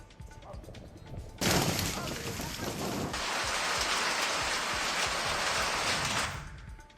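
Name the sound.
hailstorm rain falling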